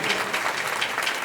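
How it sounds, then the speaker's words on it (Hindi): A church congregation at a pastor's sermon breaks into brief, dense applause, a loud wash of clapping lasting just over a second. "तालियां, हालेलुया।"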